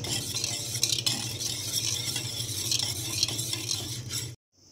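Three beaten eggs with turmeric, pepper and water being whisked in a bowl, a steady scraping, swishing stir running for several seconds at close range, then a sudden cut to near silence.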